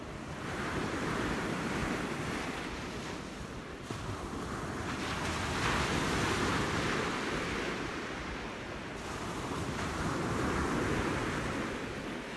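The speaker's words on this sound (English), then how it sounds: "Yes, Elizabeth, the waves sound amazing today." Ocean waves on a beach at sunrise, a continuous loud roar of surf with gentle swells and some wind buffeting the microphone, no voices.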